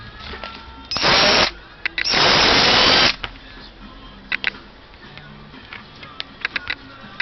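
A repaired Sparki cordless drill whirs in two loud bursts, one short and one about a second long, with a brief gap between them and faint clicks and handling taps afterward.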